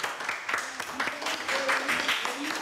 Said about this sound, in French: On peut applaudir Thomas quand même,